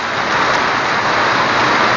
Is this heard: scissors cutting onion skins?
no